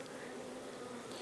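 Honey bees at a hive on a farm, a continuous droning hum of many wings, steady and fairly faint, with no voices.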